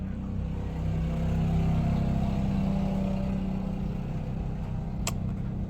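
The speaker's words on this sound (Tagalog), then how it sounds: "medyo madaming sasakyan na dumadaan ngayon guys" Steady stream of road traffic passing by during a town fiesta eve, a continuous low engine rumble and tire roar at moderate distance, with one car revving slightly louder midway.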